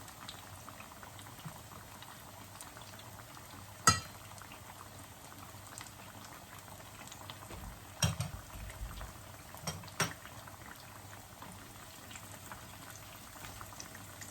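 Soft, steady sizzle and bubbling of battered bananas frying in oil, with a few sharp clicks and knocks nearby.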